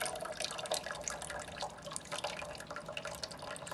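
Brown, soil-laden water runs off soil under a rain simulator, trickling steadily, a soft continuous splashing flow with no voices.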